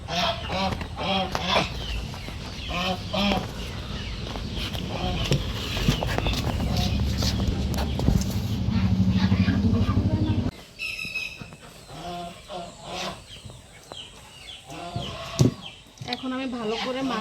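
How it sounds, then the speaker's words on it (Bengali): Ducks and chickens calling around a rural home in the morning, a run of nasal quacks and clucks repeating near and far, with a person's voice mixed in at times. "এখন হাঁস মুরগি ক্যা ক্যা প্যা প্যা করতেছে"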